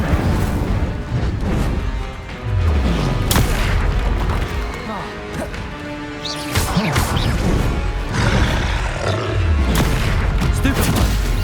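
An Incendio fire spell cast in Hogwarts Legacy during a hectic battle, loud blasts and crashes repeating throughout amid other spell impacts, with a voice shouting spell names over the din.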